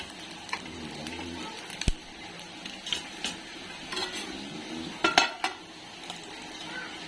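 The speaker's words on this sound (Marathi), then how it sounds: "आता थोडी पलटी करून आपण झाकण मारणार आहे" Brinjal being flipped and cooked under a lid in a pan: scattered sharp metallic clinks and scrapes of a utensil against the pan over a faint steady background, with a few louder clatters.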